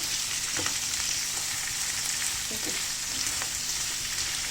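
A dense, even hiss of ingredients sautéing in a hot pan for shahi paneer, steady and close throughout, with a few faint utensil taps beneath the sizzle and no speech.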